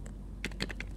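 Quick typing on a computer keyboard in a toy house setup, a short burst of four or five light clicks heard close and fairly faint.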